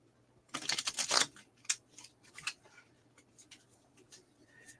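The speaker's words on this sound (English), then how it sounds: "It's hard to shuffle." A deck of cards is shuffled in a quiet room for a board game, a quick flurry of crisp riffling clicks followed by a few scattered softer taps and slides.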